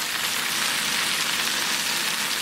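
Onions frying in a pan for Guatemalan pollo con crema, giving a steady, dense, close-up sizzle with an even crackling hiss that holds constant throughout and has no talking over it.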